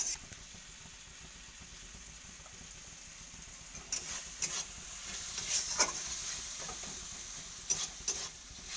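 Masala sizzles softly in oil in a pan while a spoon scrapes and stirs it at intervals. The frying hiss is quiet and close, broken by brief, sharper scraping strokes.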